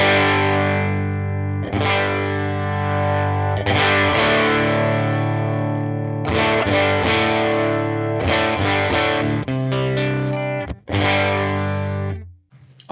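An electric guitar plays chords and single notes through the clean boost of a UAFX Woodrow 55 pedal, bright and sustained, with pauses between phrases and a final ringing decay.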